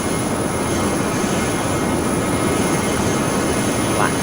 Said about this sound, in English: Hopefully the aircraft get up to speed.